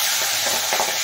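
Hilsa fish pieces frying lightly in hot oil, a dense continuous sizzle with water spattering and popping in the oil, brief and close.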